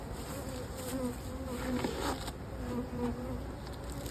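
Steady, dense buzzing of many honeybees swarming close by around beehives, a continuous droning hum with no voices.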